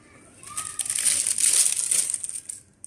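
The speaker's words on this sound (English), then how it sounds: "There's a little sound, a little noisy because I use the paper, so the paper makes the sound." Paper petals of an electric blooming paper flower wedding decoration rustle and crinkle as they open, a dry crackling that swells over a couple of seconds, then fades out.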